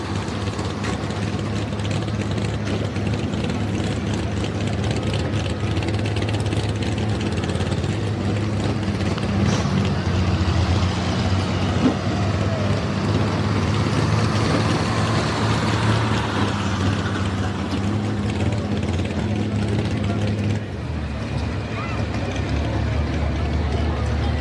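A naturally aspirated Hemi race engine idles with a deep, steady, lumpy rumble, loud and close, holding throughout at a drag racing event, with crowd and track noise mixed around it.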